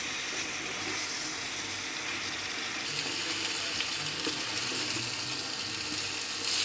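Spice paste of black pepper, black cardamom and green cardamom fries in a pan for aloo gobhi, giving a steady, even hiss and sizzle that runs unbroken, close and moderately loud.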